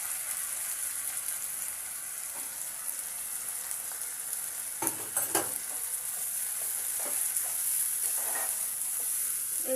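Ginger, garlic and chili paste sizzles steadily in a hot pan, with scraping stir strokes and a brief louder clatter midway, continuous and close with no talking.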